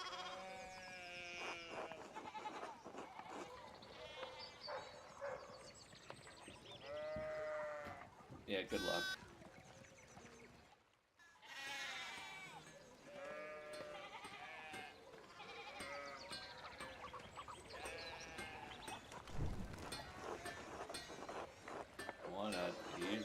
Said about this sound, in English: we need to go get these sheep under control